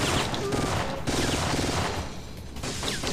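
G18 pistol firing in rapid bursts in the Syphon Filter video game, dense fast gunfire with brief pauses between bursts, under faint game sounds.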